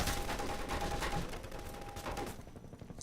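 Sustained rapid gunfire from a helicopter gunship in Half-Life 2, a loud continuous burst of shots that dominates for over two seconds before dropping away to quieter ambience.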